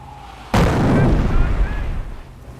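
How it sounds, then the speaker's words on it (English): Artillery barrage in Company of Heroes: a single heavy explosive boom bursts in suddenly and rolls on as a loud, sustained rumble of impact and debris that slowly tapers off. "Continue to barrage the enemy squad until they are defeated."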